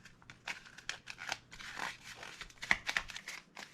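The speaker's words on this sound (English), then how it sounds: "I'm going to add some tape onto there and reinforce it" Adhesive tape is pulled and pressed onto cardboard, giving crinkly rips and crackling rubs close by, in uneven bursts.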